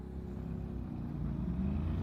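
A Honda NC750X or NC700 motorcycle engine runs with a steady low rumble, rising slightly toward the end as it revs, close by and continuous with no talk.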